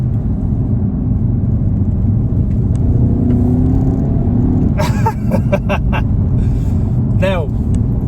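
A 2021 Skoda Octavia RS engine drones steadily with a low, continuous rumble, artificially generated engine noise, while brief bursts of talk cut in near the end.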